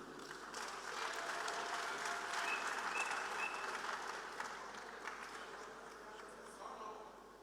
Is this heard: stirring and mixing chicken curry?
no